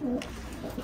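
A brief, soft, low coo from a fantail pigeon sounds against a hazy background.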